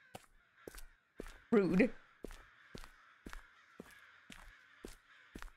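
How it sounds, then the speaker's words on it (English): Crow cawing outdoors, a series of harsh, evenly spaced caws repeating about every half second, moderately loud, with a brief louder human exclamation partway through. "And fuck you, bird outside. You scare the shit out of me."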